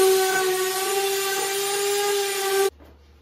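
A power sander works across a wooden project to smooth out planer snipe marks before staining. It gives a loud, steady whirring drone with a constant hum, then cuts off abruptly near the end, leaving near silence.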